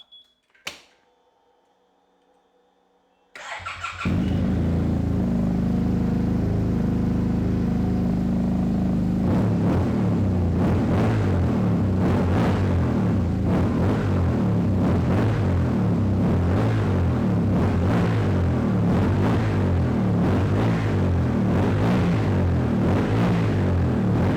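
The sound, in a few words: Akrapovic exhaust sound of 2020 Yamaha TMAX 560 scooter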